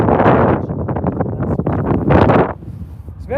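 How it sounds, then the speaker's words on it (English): Strong wind buffets the microphone at an airfield beside an aircraft cockpit, a loud continuous rumbling roar with gusty surges that drops away near the end. "It's very windy, I hope you can hear me."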